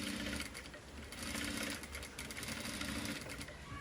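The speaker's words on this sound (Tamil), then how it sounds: "ஓகே இப்போ வந்து நாங்கள் இதை வச்சு தைப்போம் லைனிங்கை தைப்போம்" A sewing machine stitching the lining of a tailored top, its motor whirring in a steady, fast, continuous run with a rapid needle clatter, close up and alone.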